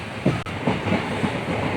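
Eranad Express passenger train heard from inside an almost empty carriage: a steady, fairly loud rumble of wheels on rails with soft rhythmic knocks and clatter, and no voices.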